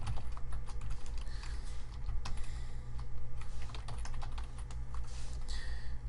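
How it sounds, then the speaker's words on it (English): Fast, continuous clicking of a computer keyboard as filler text is typed, close and fairly loud over a steady low background hum, with no talking. "you can just type some lorem ipsum stuff in here"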